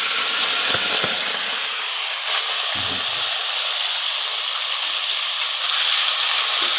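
Taki fish dropped into hot oil for frying, a loud, continuous, bright hiss and sizzle that fills the whole stretch, with a few soft knocks of the pan underneath.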